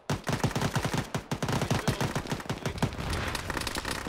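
Rapid bursts of cannon and automatic gunfire in a military combat video game, loud and close, rattling steadily before blending into a dense wash of noise.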